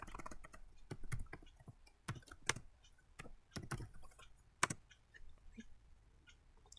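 Typing on a computer keyboard to correct a typo, irregular clusters of quiet key clicks with a few sharper isolated taps, close-up and alone with no talking.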